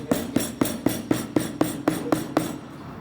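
A hammer taps the feather strip on a pool table during cloth installation: about ten crisp, evenly spaced knocks, roughly four per second, close and steady, with no talking.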